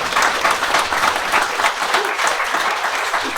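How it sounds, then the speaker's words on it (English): Wedding guests at a winery ceremony clap after the groom's vows, giving a lively, sustained burst of applause from a modest crowd, close and even from start to finish. "He can have a clap for that, I think."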